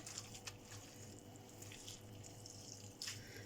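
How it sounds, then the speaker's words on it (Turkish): Water is poured over freshly grated potatoes in a kitchen, making a steady, soft splashing like a running tap that continues through the clip with a few brief louder spurts and no talking. "Biraz üzerine Su dökeyim. Nişastası gitsin patatesin."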